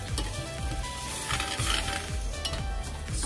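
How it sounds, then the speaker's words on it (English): Okra and prawns with coconut paste sizzle in a pan, close by, while a utensil stirs and scrapes against the metal in repeated rhythmic strokes. "Give it a good stir."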